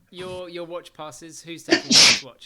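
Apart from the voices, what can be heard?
sneeze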